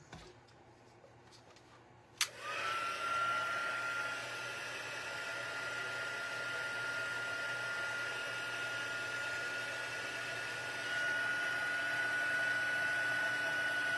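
A heat tool blows hot air in a steady, continuous hiss. It starts abruptly with a click after a quiet moment and runs alone at an even level.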